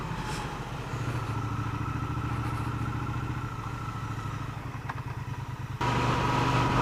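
A Triumph Speed Twin 1200 motorcycle's engine pulses steadily while riding, a close rhythmic throb that rises briefly and then shifts abruptly near the end, with no talking over it.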